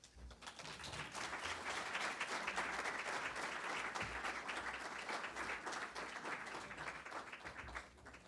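An audience at a church program breaks into sustained, dense applause, steady and full for several seconds before tapering slightly at the end.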